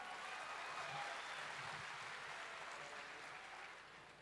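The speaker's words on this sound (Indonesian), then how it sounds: "Masih belum terlatih tepuk tangannya." A crowd gathered at a governor's public event in West Java claps together, a dense steady wash of applause that holds for several seconds and then tapers slightly near the end.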